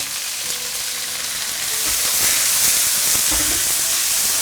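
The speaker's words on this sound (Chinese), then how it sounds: "最大火去炒它" Cabbage stir-frying in a hot wok over the highest flame after ginger, garlic and scallion were fried in oil, giving a steady loud sizzle and hiss that swells midway with a few clatters of stirring.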